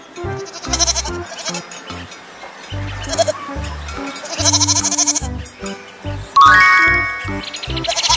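A goat bleats in a farm-animal sound sequence: several nasal, quavering calls of uneven length, moderately loud, with a bright chime ringing out near the end.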